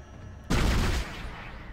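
A single sharp gunshot burst in the Dead Space video game, loud and close, breaking over a quiet hum and dying away within about half a second.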